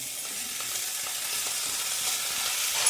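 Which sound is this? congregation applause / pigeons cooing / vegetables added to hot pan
vegetables added to hot pan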